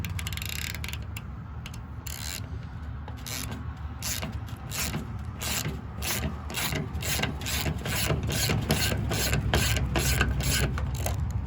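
On a Chevy G10 van, a ratchet cuts a thread into a hole with repeated rhythmic clicking strokes over a grinding, rasping scrape, close and steady, growing slightly louder toward the end.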